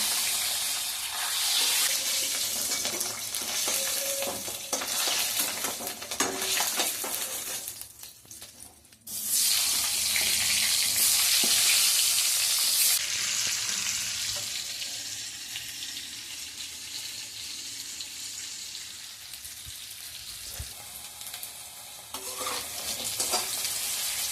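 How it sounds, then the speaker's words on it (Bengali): Duck eggs frying in hot oil in a wok, with a steady loud sizzle and crackle, occasional stirring scrapes, and a brief lull before the sizzling surges back strongly. "লাল করে ভেজে নেবো"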